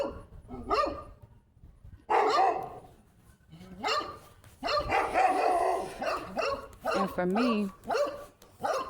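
Dogs bark repeatedly, several sharp barks and yips mixed in with a person talking over them, the barking coming in irregular bursts close by.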